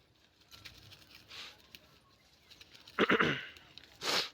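A few short bleats from local village (gavran) goats, near and fairly loud, spaced apart against a quiet background.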